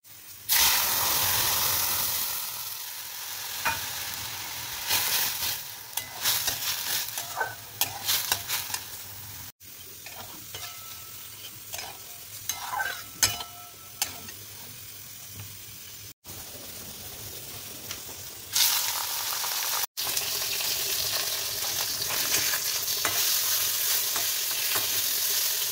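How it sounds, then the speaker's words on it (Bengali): Onion, garlic and fish frying together in oil crackle and sizzle loudly up close, broken by stirring scrapes and brief pauses, with no voices. "পেঁয়াজ রসুন মাছ একসঙ্গেই ভাজছি"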